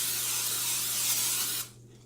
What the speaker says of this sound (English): So what I'm going to do first is lightly spray that with some cooking spray.